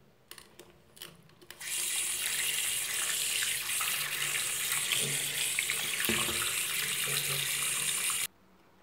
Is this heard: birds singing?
no